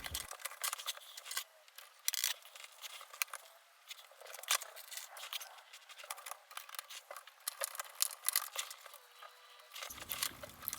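Small cutters snip antenna wire off the circuit board of a broken flip clock, producing faint crisp clicks and rustling handling noises scattered irregularly across a quiet room.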